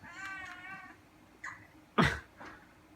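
A house cat meows in a few clear, close calls: a long wavering cry at the start, then shorter mews, with one loud, sharp yowl near the end.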